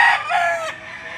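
Roosters crow and hens cluck loudly up close amid a live poultry market in Lipa City, Batangas, one long crow trailing off into steady clucking.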